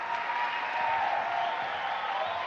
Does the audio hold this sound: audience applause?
yes